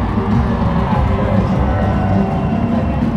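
A dense crowd cheering at the Formula 1 Abu Dhabi Grand Prix podium, a steady loud roar of voices and whoops heard from close among the spectators.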